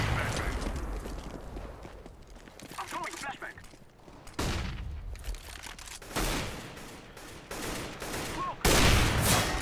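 Gunfire in the game CS:GO: several loud bursts of shots hit in quick clusters, with the sharpest volleys near the middle and end, over a dense background of in-game noise.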